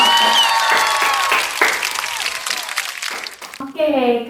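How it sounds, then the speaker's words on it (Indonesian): Children clap together in an elementary classroom after a group presentation, a burst of uneven applause that thins out before an adult voice speaks over the end. "Ayo kita beri tepuk tangan untuk kelompok apel."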